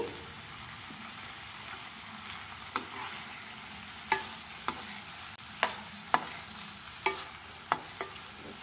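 Cooked rice and grated coconut are stirred in a pan with a soft sizzle, punctuated by sharp scraping and clinking hits of a spoon at irregular intervals, close and alone.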